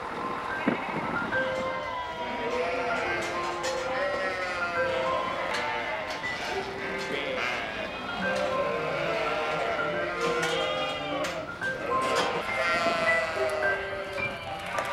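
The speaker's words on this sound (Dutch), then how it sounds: "De schapen verruilen de warme stal in Appelscha voor het sappige Zwolse gras." A flock of sheep and lambs bleats continuously for the whole stretch, many overlapping calls from near and far, high lamb cries among deeper ewe voices, with no talk.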